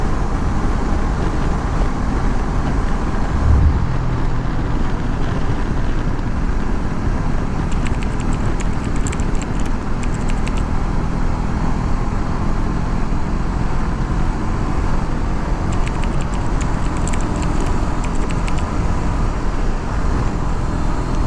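A Honda CB500X motorcycle on Dunlop Trailmax tires, carrying a pillion and luggage, cruises above 100 km/h on a road, a steady loud roar of engine and wind noise throughout.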